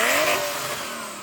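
A Porsche 911 Turbo of the 993 generation revs hard in a short, loud burst, its engine note sweeping high and then easing slightly as the rev holds, with no voices over it.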